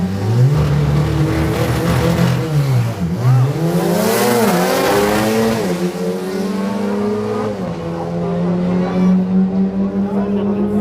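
Drag racing cars at Killarney Drag Day rev and accelerate, engine pitch sweeping up and down in loud, continuous waves before settling into a sustained high roar.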